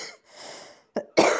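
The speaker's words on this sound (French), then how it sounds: "je vous tousse dans le micro" A person coughs close to a microphone: a faint breathy exhale, then two short, sharp coughs, the second louder and longer.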